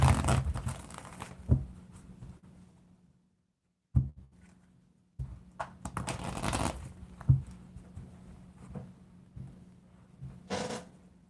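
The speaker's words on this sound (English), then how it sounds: "Just getting some quick shuffles going on for the secondary deck" A fairly new deck of cards, bought a few months ago, is shuffled by hand in quick bursts of riffling and crinkling, separated by short pauses and one near-silent gap, with no talking.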